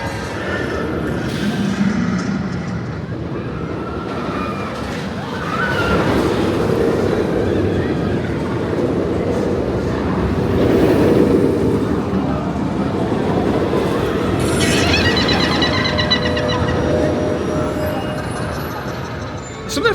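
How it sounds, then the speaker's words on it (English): Roller coaster trains at Alton Towers rumble past on the track in waves of rolling, rattling noise, some near and some farther off, with background crowd chatter and a metallic screech toward the end. "We'll go down and watch the trains go around for a little while"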